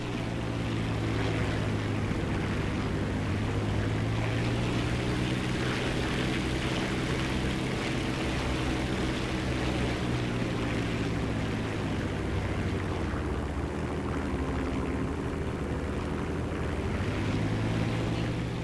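The engine of a Heinkel He 51 biplane in War Thunder drones steadily and evenly throughout, a dense propeller roar with no pauses, alone without talk.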